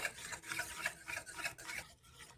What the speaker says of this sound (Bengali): এই যে জল দিয়ে ভালো করে এটা ফেটিয়ে নেব